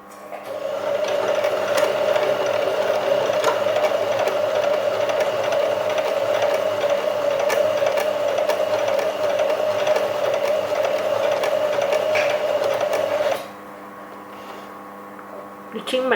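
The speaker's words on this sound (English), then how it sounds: "I'm going to reverse sew." A basic sewing machine runs steadily in reverse along a pants edge, its motor hum and needle chatter loud and continuous for about thirteen seconds before stopping abruptly, leaving a quieter background.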